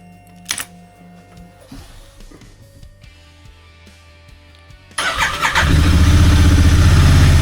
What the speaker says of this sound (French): on va chauffer un petit peu le moteur avant de partir